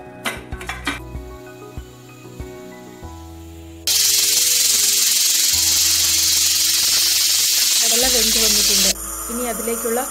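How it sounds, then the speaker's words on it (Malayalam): Whole cardamom, cloves and cinnamon dropped into hot oil for Kerala-style kadala curry, bursting into a loud, steady sizzle after a few clinks of utensils, then the frying hiss eases slightly as stirring begins. "ചൂടായ എണ്ണയിലേക്ക് ആദ്യം ഏലക്ക, ഗ്രാമ്പു, കറുവാപ്പട്ട ഇവ ഇട്ട് കൊടുക്കുക."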